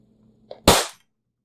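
A single loud, sharp snap like a small bang as a Kydex sheet breaks along a cut line, preceded by a faint creak, then silence.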